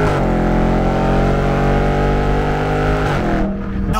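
A Dodge Charger Scat Pack's engine roars at full throttle, loud and close, holding a steady, harmonic-rich growl for several seconds before easing off sharply near the end.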